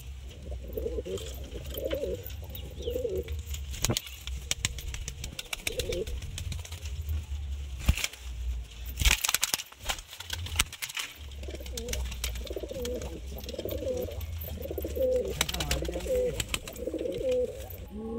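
Racing pigeons coo in repeated soft, throaty bursts close by, over a constant low hum, with a stretch of rustling and handling noise midway.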